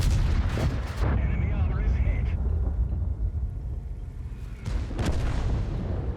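Heavy tank guns boom in World of Tanks gameplay, a couple of loud low blasts with rumbling tails amid battle noise, while someone talks over the action.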